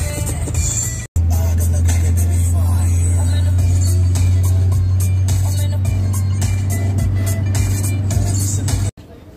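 Car driving on a snowy mountain road near Koksar and the Atal Tunnel in Manali, a steady engine drone and road noise with a strong low hum, continuous and close, briefly cut at the start and end.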